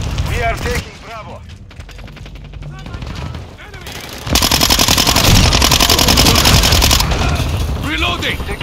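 Rapid automatic gunfire in Call of Duty Modern Warfare 2 Domination on the Shipment map, loud and dense with sustained bursts and explosions, with radio-style voice callouts over the fighting.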